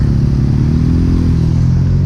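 A motorcycle engine idles and revs close by, a loud steady throbbing drone throughout.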